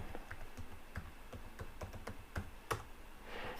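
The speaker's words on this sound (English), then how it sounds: "let me just put the password on this one" A password is typed on a Lenovo ThinkPad laptop keyboard, giving quiet, close, uneven keystroke clicks in a brief burst with no talking.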